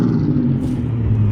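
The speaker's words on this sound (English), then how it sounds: "Rev it again, please" Loud car engine at a car meet takeover, a steady deep rumble holding close and strong, with a slight rise in revs partway through; no talk.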